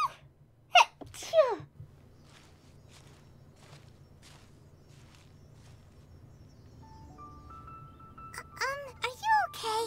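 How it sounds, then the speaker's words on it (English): A character in Genshin Impact gives a sharp sneeze near the start, close and loud, then a quiet stretch of faint footsteps before spoken voices come in at the end. "Uh-oh, I have to sneeze."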